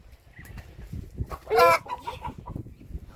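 A lone chicken in a cage clucking close by, a few soft low clucks followed by one louder drawn-out squawk in the middle, then more quiet clucks.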